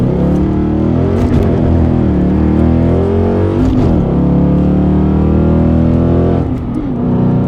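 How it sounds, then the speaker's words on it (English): Ford Mustang GT fitted with an MBRP 3-inch race cat-back exhaust, revved hard at wide open throttle several times, loud and close with rising and falling engine roars and no talk. "I'm gonna give you a little bit of demonstration, wide open throttle here."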